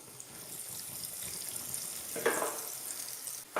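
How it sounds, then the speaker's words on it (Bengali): Leaf-shaped pitha cakes drop into hot oil in a pan over medium-low heat, giving a soft, steady bubbling sizzle close by, with a brief louder crackle burst midway and another near the end. "এখন আমি পিঠাটা ছেড়ে দিচ্ছি।"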